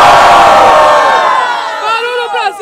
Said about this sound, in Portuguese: Barulho pra cima de Joltão.